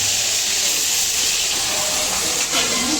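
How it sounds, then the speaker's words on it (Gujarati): Potatoes sizzle in a cumin and hing tempering, giving a steady, soft frying hiss that continues without a break. "જીરું હિંગ બટાકા નાખવાનો વઘાર કરે"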